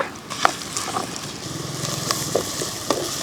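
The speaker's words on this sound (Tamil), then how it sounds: "வெங்காயம் வதங்கிட்டுக்குது" Sliced large onions sautéing in oil in a pan for mushroom gravy, a steady soft sizzle with occasional sharp crackles and pops, close and fairly quiet, no talk.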